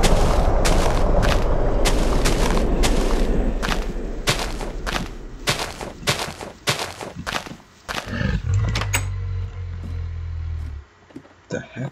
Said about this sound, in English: Was that TNT?